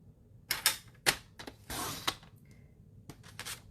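A paper trimmer slices a sheet of 8.5 by 11 paper in half, giving sharp clicks, short clacks and a brief swishing cut stroke, close and quiet.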